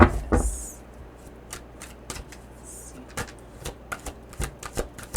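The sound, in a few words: energy cards being shuffled for a reading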